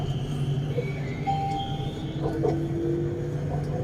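A BTS Skytrain carriage in Bangkok rumbles along with a steady low hum, plus rising and falling tonal whines from the motors and a faint squeal, heard from inside without talk.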